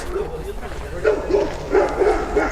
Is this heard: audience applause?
no